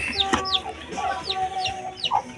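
Backyard chickens clucking close by, a series of short, repeated clucks and calls over a low farmyard background.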